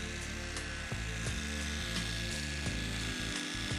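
A motorized facial brushing unit runs steadily during a grade I skin peel, giving a close, continuous whirring hum with a fixed tone and small bumps in its drone, with no talking.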